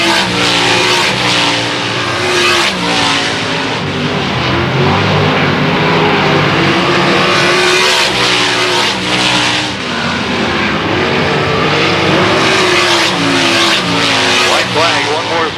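Race cars roaring around the track in a heat race, a continuous loud engine drone rising and falling as cars pass, with an announcer talking over it throughout.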